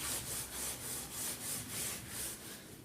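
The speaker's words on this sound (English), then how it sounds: "here I am scraping down an awning rail" Hand scraping along an aluminium awning rail on a vintage caravan under restoration: faint, repetitive back-and-forth strokes in a steady rhythm, each rasping pass even and close, with no talk.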